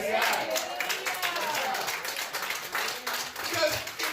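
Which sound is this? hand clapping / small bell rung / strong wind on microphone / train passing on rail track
hand clapping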